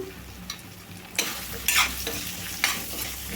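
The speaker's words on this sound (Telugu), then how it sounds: "ఒక సెకండ్ పాటు మా ఇవన్నీ వేగాలండి" Spices fry in a pan for a radish curry, making a continuous sizzle under intermittent spoon stirring and a few louder scraping bursts.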